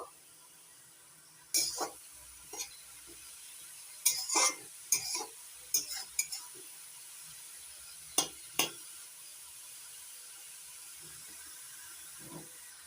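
Rohu fish head and pea greens being stirred in a frying pan, with scattered scraping clinks of a spatula against metal over a quiet low sizzle, close and intermittent.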